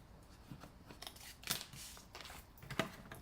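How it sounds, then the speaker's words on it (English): Scissors snipping through paper to cut out small heart shapes, a quiet close-up run of crisp little cuts and rustles with a couple of sharper snips, no voices. "Let's cut these hearts out real quick."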